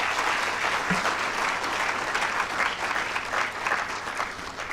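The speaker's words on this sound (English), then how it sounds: "A neat round of applause for Sadhguruji" An audience at a book launch applauds the spiritual guest Sadhguru with sustained, even clapping that carries through the whole stretch, moderately loud and close.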